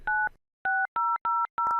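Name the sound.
touch-tone telephone dialing a number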